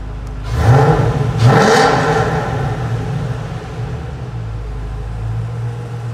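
A 2007 Mustang GT engine, already warmed up, gives two quick revs that rise and fall close by. It then settles back to a steady low idle.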